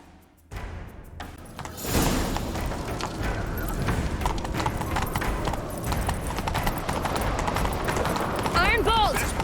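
Roach, a horse in The Witcher 3 video game, clip-clops at a steady galloping rhythm. Hoofbeats start after a short pause and continue loud and close, while game sounds and voices play around them.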